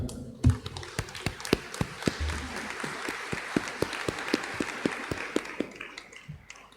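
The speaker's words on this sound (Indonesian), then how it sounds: "Berdiri sambil tepuk tangan." Standing congregation applauding at a church groundbreaking ceremony for a new fence, with steady, fairly faint clapping and scattered sharp individual claps throughout.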